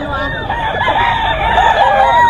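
Roosters crow and chickens cluck loudly and continuously at a fowl market, a Boston Sweater stag among them, with overlapping calls and some background voices.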